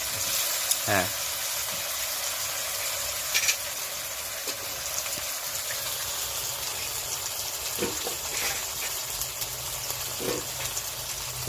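Pieces of tuna fry in hot oil in a pan for a Bengali curry, a continuous crackling sizzle with occasional brief clinks and stirring knocks, fairly close and moderately loud.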